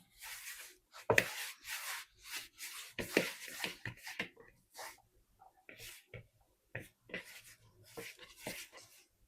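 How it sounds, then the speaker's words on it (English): Hands mixing chicken dumpling filling in a bowl, heard as a steady series of close, soft squelching and rubbing strokes, repeated rhythmically throughout. "Now I'm going to use my hands to mix it together, combine everything well."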